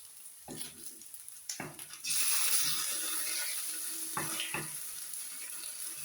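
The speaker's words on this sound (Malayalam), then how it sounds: "പയറുതോരൻ വെന്തിട്ടുണ്ട് നമ്മളതിലേക്ക് കുറച്ച് വെളിച്ചെണ്ണ ഒഴിച്ചു കൊടുക്കുകയാണ്" Cooked green bean thoran stir-fried with a splash of coconut oil: scattered spoon knocks, then a sudden loud sizzle that settles into a steady hiss with occasional stirring clatter, no talk.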